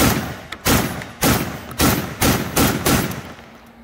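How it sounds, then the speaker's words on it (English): HDM 1050 shotgun fired from a 10-round magazine: six sharp, loud blasts in a steady rhythm about half a second apart, each with a short decaying tail, then quiet. "The 10-round mag is loaded up in the gun, so we are getting ready to fire."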